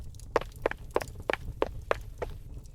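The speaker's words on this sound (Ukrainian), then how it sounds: "Каблуки знову застукали. Швидше з кожною секундою." High-heeled shoes clack in a steady, quickening series of six sharp footsteps at moderate distance over a low rumbling background, with no voices.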